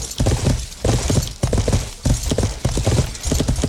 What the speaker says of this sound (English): So galloping full speed through the woods, not necessarily the greatest thing to do